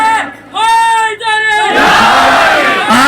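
At a religious conference in Bemina, a lone voice calls out and a large crowd answers by shouting a religious slogan in unison, a loud, sustained roar filling the second half.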